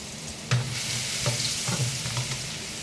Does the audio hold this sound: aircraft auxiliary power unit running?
no